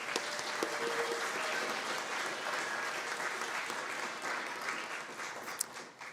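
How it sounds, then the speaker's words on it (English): A steady round of applause fills a temple opening ceremony, dense, even clapping from a gathered audience that carries on throughout without talk. "Let's give her a round of applause."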